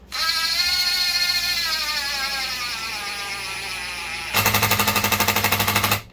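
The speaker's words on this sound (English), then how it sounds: "Goes down, starts impacting when it runs out of torque." Ridgid gen5x impact driver on its low setting sinks a screw with a steady high whir, then breaks into a loud, rapid hammering rattle as it begins impacting near the end, close up with no talk.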